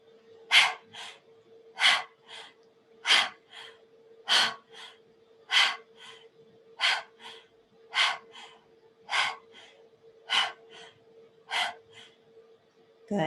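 Rapid breath-of-fire breathing with the tongue out, about eleven sharp, evenly spaced panting bursts repeated steadily over a low steady hum, close and fairly loud, with no talking.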